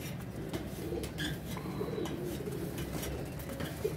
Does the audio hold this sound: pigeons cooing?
yes